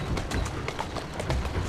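A horse gallops in Assassin's Creed Syndicate, its hooves clip-clopping in a quick, steady rhythm that sounds close and fairly loud throughout.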